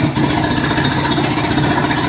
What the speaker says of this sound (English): It's only at idle, so it's only going to be putting out about 22 amps or so.